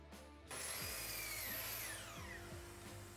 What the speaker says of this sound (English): I can go ahead and glue up and screw the box together